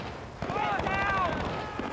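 Gunfire in the video game Battlefield: Bad Company, a burst of booming shots with ringing tails, heard beneath a player's talk.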